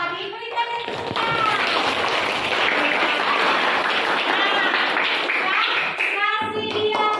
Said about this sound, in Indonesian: Kasih dia tepuk.